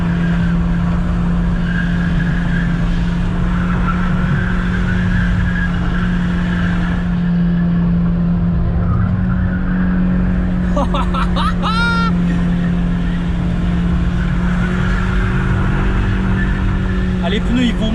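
Car drifting on a first attempt with left-foot braking, a steady loud engine drone running throughout and brief squealing tyre skids near the middle, while people talk over it.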